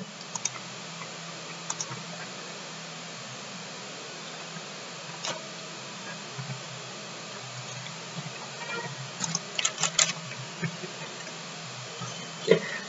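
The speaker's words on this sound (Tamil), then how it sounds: "சும்மா ஒரு டெக்ஸ்ட் இப்போ டம்மியா டைப் பண்ணிக்கிறேன்" Dummy text is typed on a computer keyboard while building a JavaScript game, sparse quiet key clicks scattered over a faint hiss, thickening into a quicker burst of taps near the end, with no one talking.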